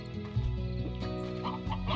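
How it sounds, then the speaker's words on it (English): Stony hens in the Slime Rancher video game clucking in a farm coop, a busy overlapping run of close, moderately quiet clucks and squawks with a soft musical backdrop. "Now we can get more stony hens."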